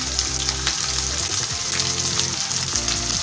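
Ground red chili frying in oil with garlic and onion in a pan for an aloo palak curry, a steady loud sizzle with stirring throughout, heard alone without talk.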